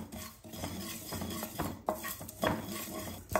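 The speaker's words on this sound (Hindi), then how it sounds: "मीडियम फ्लेम पे भूनिए 30 सेकेंड से लेके 1 मिनट तक, जलाइए मत।" Poppy seeds dry-roast in a pan over a medium flame, a quiet scraping and rattling as a spoon stirs them in irregular strokes, faint and close with no talk.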